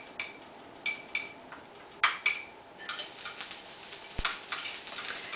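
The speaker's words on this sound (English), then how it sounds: "A little bit of oil, and we're going to just saute the garlic" Garlic sautéing in a little avocado oil, heard as a faint sizzle beneath sharp metallic clinks and taps of a utensil against the pan, several distinct knocks spaced through the clip.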